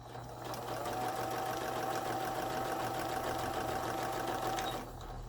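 A Juki HZL-K85 sewing machine runs steadily at close range, a continuous even mechanical whir and hum lasting several seconds before stopping.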